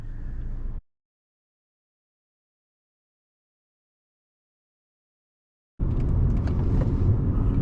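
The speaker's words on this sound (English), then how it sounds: "that was the first time I did a second gear pull" A car running a TSP Stage 1+ tune on map 3 pulls hard in second gear: a loud, close engine roar cuts off abruptly, then after several seconds of silence a dense, throaty engine sound returns and holds steady to the end.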